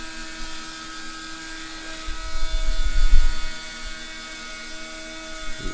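A CNC router roughs out wood with a 1/4 inch bit, its spindle whining in steady high tones while the cutting swells into a louder, rumbling grind midway before easing back.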